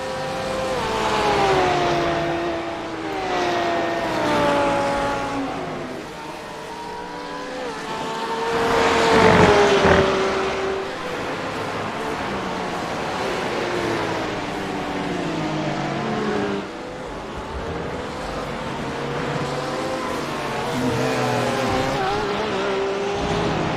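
A Porsche 911 GT3R race car in a racing video game laps Brands Hatch, its engine rising and falling through gear changes with sweeping pitch shifts and a louder surge past the midpoint, sustained and close throughout.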